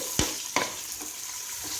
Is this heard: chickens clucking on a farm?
no